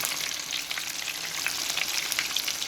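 Shrimp fry in very hot oil, producing a loud, steady crackling sizzle with dense spits and pops, close and unbroken throughout.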